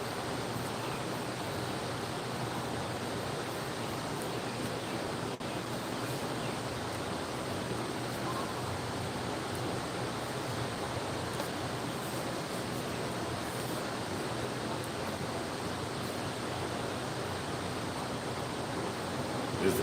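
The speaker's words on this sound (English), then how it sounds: "with that water going, boy, that water knock you out" A river in Pigeon Forge, Tennessee flows by continuously, a broad, steady rushing wash of water with no breaks, moderately distant and unchanging throughout, with no voices.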